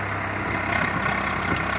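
A tractor engine idles with a steady, even rumble, close and continuous, with no voices over it.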